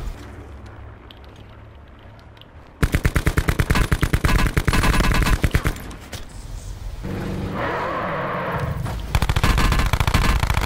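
Rapid automatic gunfire from a video game, loud bursts of machine-gun fire cutting in and out with heavy booming and chaotic battle noise between volleys.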